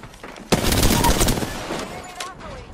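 Gunshots in the video game Apex Legends: a sudden loud burst of rapid fire that holds for about a second and a half, then tails off into quieter scattered shots.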